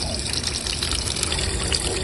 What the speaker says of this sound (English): They got these cool water faucets here.